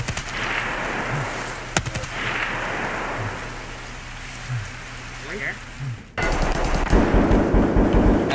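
Gunfire in the video game Escape From Tarkov rings out as a few sharp shots against a steady rain-like ambient hiss, followed by a denser burst of firing and clatter in the final seconds.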